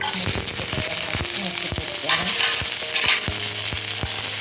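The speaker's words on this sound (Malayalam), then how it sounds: "ആ ചട്ടൻ അടുപ്പത്ത് വെച്ചിന് വെളിച്ചെണ്ണ പാന് ചൂടാക്കി തന്നെ 2 പച്ചമുളക് കീറി" Slit green chillies fry in hot coconut oil in a pan, with crackling sizzle and spatters mixed with stirring clatter throughout.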